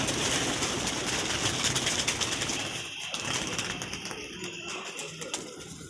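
Pigeons cooing and stirring inside a rooftop pigeon loft at a pigeon club, a steady dense bed of bird sound from close by, with a few soft flutters and shuffles breaking through and no talking.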